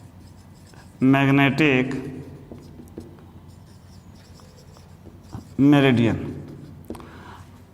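Marker or chalk scratches across a board during a Hindi physics lesson on magnetic elements, a soft continuous scraping that runs beneath and between two bursts of a man's speech.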